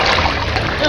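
A person swims through floodwater in an abandoned village, giving a short burst of close, continuous splashing and churning water.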